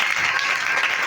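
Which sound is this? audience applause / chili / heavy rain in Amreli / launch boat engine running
audience applause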